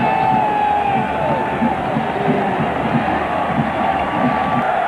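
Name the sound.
stadium crowd noise at 1997 college football game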